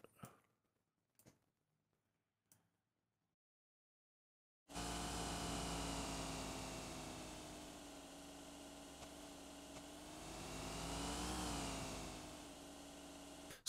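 An adaptive FMOD engine sound plays its idle loop, a steady, fairly loud droning hum that swells gently near the end. It follows a few faint clicks and a pause of silence.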